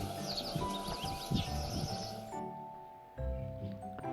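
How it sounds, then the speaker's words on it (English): A sparrow chirps in a quick run of bright, repeated tweets over a steady background hum for about two seconds, then falls quiet. "Sparrow."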